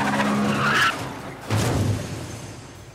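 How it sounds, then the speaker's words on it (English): A Saab car on a highway skids and flips in a film scene. A loud tire screech is followed by a second rough scraping burst that fades out, with no voices. "now the car flips conventionally, even though we're seeing the world inverted"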